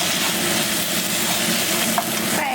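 Pork ribs sizzling and frying in browned caramelized sugar in a pan, a dense steady hiss with light crackles and occasional stirring clinks, close and continuous.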